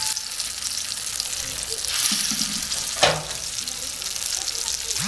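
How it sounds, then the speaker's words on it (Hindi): Shami kabab patties of beef frying in hot oil on a flat tawa, giving a continuous close sizzle with a brief louder crackle and a utensil tap midway. "अब हम इनको फ्राई करेंगे।"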